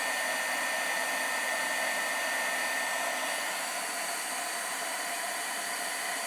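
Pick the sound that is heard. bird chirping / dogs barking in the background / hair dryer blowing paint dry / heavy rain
hair dryer blowing paint dry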